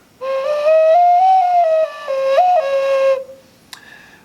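A handmade ceramic bird whistle blown in a deep, clear tone, warbling up and down through a few sustained notes, with a brief chirp at the end.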